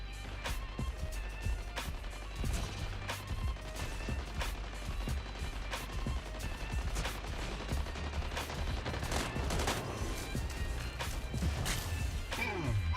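Disc launchers firing in a video game, a dense rapid barrage of sharp bursts and crashes that keeps going without pause, loud and close.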